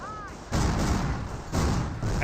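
Heavy gunfire from snipers and M10 tank destroyers in a Company of Heroes battle, two booming blasts about a second apart over a constant rumble of distant combat.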